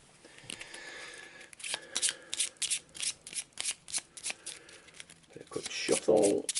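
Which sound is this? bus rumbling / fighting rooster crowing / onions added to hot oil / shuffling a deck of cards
shuffling a deck of cards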